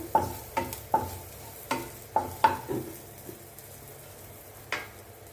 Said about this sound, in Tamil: இப்போ பாருங்கள் பூண்டு நல்லா பட்டனில் வதங்கிடுது